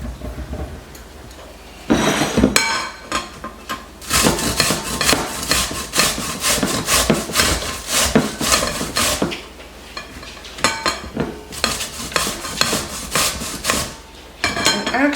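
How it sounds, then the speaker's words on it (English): Zucchini rasped over a box grater in long, rhythmic rubbing strokes, loud and close, coming in bursts separated by brief pauses. "We're going to go ahead and grate this up."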